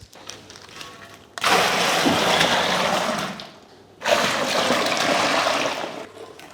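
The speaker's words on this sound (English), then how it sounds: "So now we'll just put some good clean tap water and bring it to 23 litres." Tap water gushes into a beer fermenter being filled to 23 litres, two loud bursts of rushing, splashing flow separated by a brief pause, with quiet room sound before and after.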